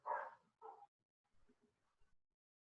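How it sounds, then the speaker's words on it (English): A 9-month-old Labrador and Staffordshire Terrier mix puppy gives two sharp barks in the background indoors, then a few faint, softer yips and whimpers. No speech. "I think you get the benefit of my 9-month-old puppy in the background"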